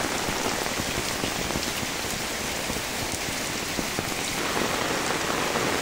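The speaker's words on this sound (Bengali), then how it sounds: "দেখুন কিভাবে বৃষ্টি হচ্ছে" Heavy rain pours down in Kaharol, Dinajpur, a dense, steady hiss of drops drumming on a surface close by, unbroken for the whole stretch with no voices.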